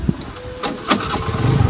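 A motorcycle engine cranks and catches during a moto vlog ride, with a brief close sputter turning into a low, uneven rumble.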